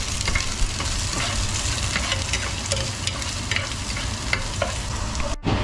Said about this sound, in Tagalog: At isusunod ko na itong sibuyas para sabay silang mabango.